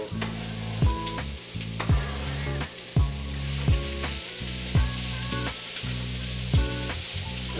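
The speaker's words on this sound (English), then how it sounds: "It's just on the griddle, getting warm, cooking in its own juice." Chopped celery and vegetables sizzling on a dry griddle with no oil, a steady crackling hiss broken by regular clacking knocks, close and fairly loud.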